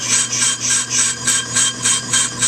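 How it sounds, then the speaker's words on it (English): A steady metallic scraping hum pulses in an even, rapid rhythm, loud and close: a warped front brake rotor from a 1995 Geo Metro spinning unevenly against the cutting tool on a brake lathe. "just turning the front rotors on this Geo"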